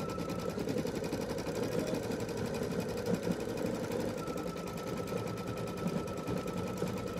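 Embroidery machine stitching a Kimberbell bench pillow, a steady close mechanical whir with rapid needle chatter running without pause and no talk.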